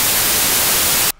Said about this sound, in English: Just a bunch of static.